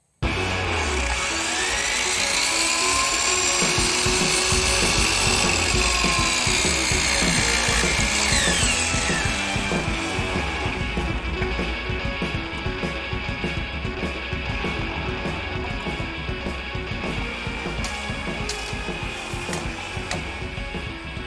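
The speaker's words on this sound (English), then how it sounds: "So we're going to plug in the saw, we're going to cut this piece." A power saw cutting a wooden piece for a bed frame, a loud continuous high whine with the motor pitch dropping as the blade bites into the wood, close, steady for about twenty seconds, with no talking.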